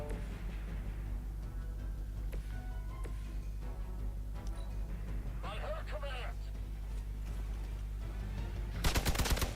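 Gunfire in Marvel's Midnight Suns rattles through a busy game soundscape of low droning music and scattered effects, with a denser burst of rapid shots near the end and game voices talking in between.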